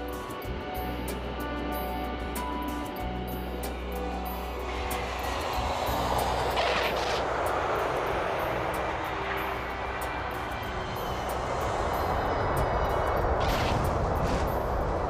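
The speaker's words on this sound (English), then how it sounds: "And now the Pan Am is arriving" A Pan Am airliner on short final arriving at the runway, a loud sustained roar of jet engines building and swelling through the whole stretch, with no talk.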